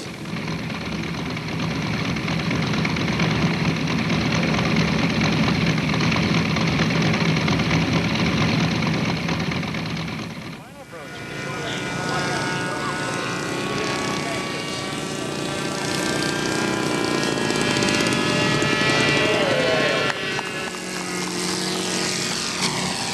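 Steady droning of a model aircraft four-stroke engine, slowed to about half speed so it sounds low and rumbling, with a rhythmic pulse from distinct firing strokes and shifting pitch over a long stretch.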